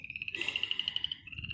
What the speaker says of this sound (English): And I just get to hear the magic of frogs.